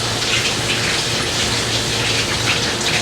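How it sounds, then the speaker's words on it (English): Cold tap water gushes steadily over eggs, a continuous, close, hissing splash of running water with no breaks and no talking. "I like to pour cold water over my eggs"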